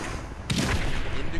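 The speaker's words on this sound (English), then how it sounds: "If you put Crimson Rune in cluster arrow, increases the damage of explosion at the point of impact." Cluster arrow explosions from a Demon Hunter with the Crimson Rune in Diablo 3: after a quiet lead-in, a burst of muffled, thudding blasts lands at once and sustains as a dense crackling rumble to the end.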